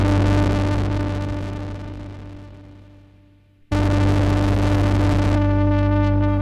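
A Moog ONE synthesizer with smoothing set to 0 gives a loud, harsh, noisy tone that slowly fades away, then cuts back in abruptly at full strength and holds, with no voices.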